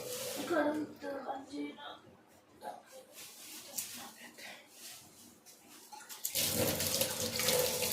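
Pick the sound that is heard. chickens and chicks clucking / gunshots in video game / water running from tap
water running from tap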